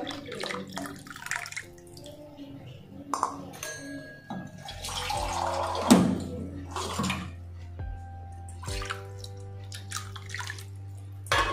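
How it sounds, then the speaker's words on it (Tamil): Lentil water being poured into a pot of tomato rasam, a steady watery splash and trickle that swells midway, with a few light clinks of kitchenware, close and alone. "இப்போ நம்ம எடுத்து வச்சுருக்க பருப்பு தண்ணி அதில் சேர்த்துக்கலாம்"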